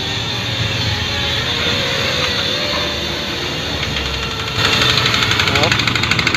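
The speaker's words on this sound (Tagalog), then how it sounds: "Napilitan siya umandar kasi binuhusan natin ng langis yung butas ng spark plug." A Yamaha NMAX 155 scooter engine, with oil poured into its spark plug hole, starts and runs steadily nearby, the sound growing louder and rougher toward the end, with people talking over it.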